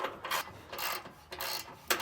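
Rhythmic rasping bursts as a ratchet wrench loosens a bolt on a vehicle frame, close and fairly quiet, repeating about every half second.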